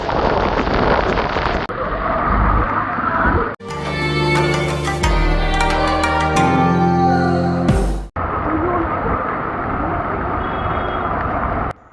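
Heavy rain pours steadily in Jaffna, a loud, close and continuous wash of falling water with wind buffeting the microphone and a brief break in the middle.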